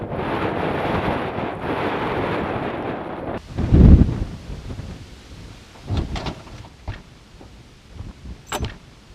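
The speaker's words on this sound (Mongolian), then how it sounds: "Салхи 14-өөс 18 м/секундын хурдтай яг одоо салхилж байна" Strong wind blowing at 14 to 18 m/s, gusting and buffeting the microphone with loud rumbling bursts, easing between gusts and then returning.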